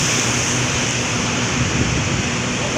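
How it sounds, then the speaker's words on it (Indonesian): Rain falls steadily in Palembang, a dense, even hiss of downpour with a low rumble underneath, loud and continuous throughout with no break. "Palembang diguyur hujan nih"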